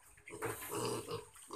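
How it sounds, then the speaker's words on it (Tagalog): Close grunting from a farm pig, a short rough, snuffling burst of low noisy sounds, fairly faint, with no one talking. "Yung baboy na unang kinuha natin."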